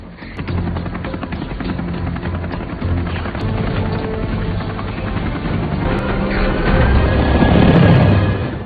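A helicopter's rotor chop and engine roar fill the scene at close range, mixed with heavy action noise and occasional sharp bangs, swelling louder near the end.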